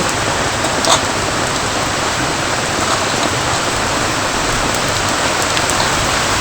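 Heavy rain pours down outside in a steady, dense hiss, constant and fairly loud throughout, with no voices.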